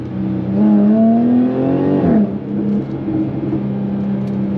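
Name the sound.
Jaguar F-Type S exhaust pops while revving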